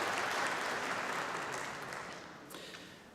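Audience applause at a university convocation ceremony for the big band, a broad sustained wash of clapping from a large crowd that slowly fades toward the end.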